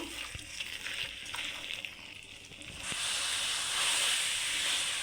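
Beef with spices cooks in a pot for a wedding-style curry, giving a steady sizzling hiss that grows louder and fuller partway through, with a few faint clinks early on.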